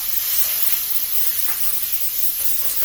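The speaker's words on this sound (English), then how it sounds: "Throw your onions in. These flexible cutting mats are perfect for it. And we're going to let these cook for a minute. Move those onions around." Onions sautéing in a pan for French dip sandwiches, a steady close sizzle with faint stirring scrapes throughout and no talking.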